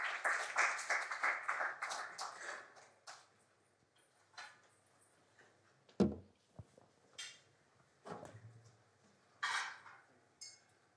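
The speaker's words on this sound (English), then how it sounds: "keep that applause going" Audience applause at an architecture talk, a brief burst of clapping at the start that fades within a few seconds, followed by quiet with scattered knocks and shuffling.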